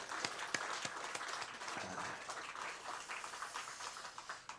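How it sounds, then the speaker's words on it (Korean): A church congregation claps to welcome a pastor, a soft, somewhat distant patter of many hands with a few sharper claps standing out, tapering off near the end. "박수 한번 해주세요."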